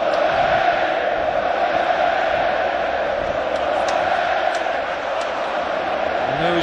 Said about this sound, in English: every pass, every move being cheered to the rafters here.